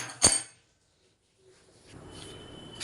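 The lid of a pot of boiling rice is lifted off with one sharp metallic clink. A brief silence follows, then a low, soft background noise rises.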